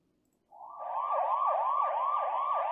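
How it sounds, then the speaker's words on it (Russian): A children's learning app plays a siren alert: a wailing electronic siren sweeping up and down in a steady repeating cycle. It starts abruptly after a brief silence and stays loud and close on its own. "сирена, когда э, ребенок совершает какую-то ошибку"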